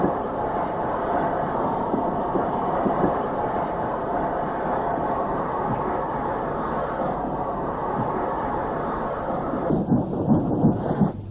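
Austerity 2-8-0 steam locomotive at Rugby in the Midlands, a steady heavy rumble of train passing close by, continuous and loud for the whole stretch with some clanking near the end.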